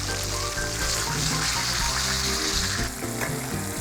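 Butter and sage leaves sizzling around a steak in a hot cast iron pan, a steady close crackling hiss that runs on without a break, no voices.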